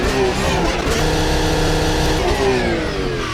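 Porsche 911 engine in the Automobilista 2 racing sim, a steady mid-pitched drone with a slight rise and fall in revs, loud and continuous throughout with no talk.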